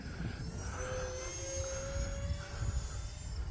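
E-flite Habu SS 50mm EDF RC jet airplane flying overhead at a grass field, a steady whooshing whine with a sustained tone, fairly distant and continuous against outdoor wind noise.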